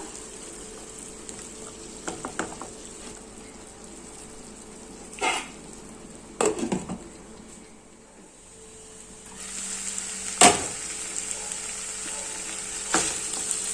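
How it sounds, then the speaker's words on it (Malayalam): Potato and beetroot pieces fried and stirred in a pan, a soft continuous sizzle broken by several sharp scrapes and clatters of the spoon, then a brighter hiss returning toward the end. "ഉരുളക്കിഴങ്ങും ഈ ബീറ്റ്റൂട്ടും കൂടി നന്നായിട്ടൊന്ന് മിക്സ് ചെയ്ത് കൊടുത്ത ശേഷം മൂടി വെച്ചിട്ട് വേവിച്ചെടുക്കാം."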